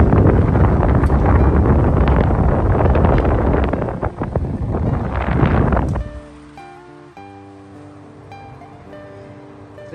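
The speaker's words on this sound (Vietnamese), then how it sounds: "Các bác nghe thì nó thì có tiếng gió thổi ra, còn nghe không tiếng quạt chạy luôn." Vintage 1976 National electric fan blowing strongly, a loud broadband rush of air at close range for about six seconds, then dropping to a much quieter, steady hum with faint tonal whine from the running motor.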